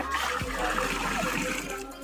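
Hot water pours into a pot of washed rice while Hyderabadi biryani is being made, giving a steady splashing, rushing flow that lasts throughout, with a voice talking over it.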